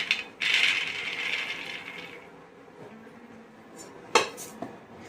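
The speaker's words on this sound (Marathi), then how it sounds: "आता हे छान खमंग भाजलेले शेंगदाणे एका प्लेट मध्ये काढून घ्यायचे" Dry-roasted peanuts scraped and tipped out of a pan onto a plate, a rattling, scraping clatter close by, strongest at the start, then quieter shuffling and a sharp metallic knock near the end.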